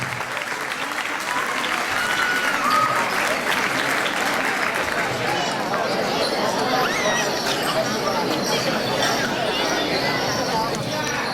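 A crowd applauds steadily and loudly for the young jota dancers of Castellar del Vallès at a Colla de Solters folk dance competition, a continuous wash of clapping with faint chatter mixed in.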